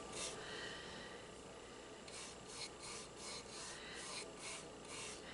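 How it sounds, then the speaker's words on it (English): Close, steady rasping and rubbing as the edge of a painted stripe is rubbed off on a craft piece, with repeated short scrubbing strokes in the second half and no talk. "just rub off that edge"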